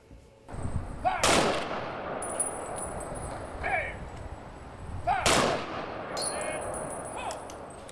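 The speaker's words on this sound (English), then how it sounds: "The Monroe County American Legion Honor Guard then rendered a proper rifle salute." An American Legion honor guard fires a rifle salute at a Veterans Day wreath ceremony, two sharp volleys cracking outdoors about four seconds apart, each followed by a ringing echo and faint metallic clinks in between.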